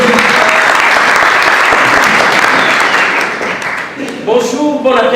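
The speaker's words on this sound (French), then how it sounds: "Applaudissez." A comedy festival audience applauds in a loud, dense wash of clapping that holds steady, then thins and fades toward the end as a voice begins speaking over the last stretch.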